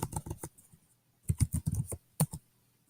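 Quick bursts of keystrokes on a computer keyboard, close and crisp, in two short clusters separated by a brief pause, with a few final taps at the end.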